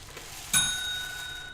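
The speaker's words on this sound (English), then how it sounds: "That was supposed to be a bell ring for Hal claiming loan." A single bell struck once with a sharp onset and a clear ringing tone that decays slowly over about a second, sounding alone, close by and moderately loud.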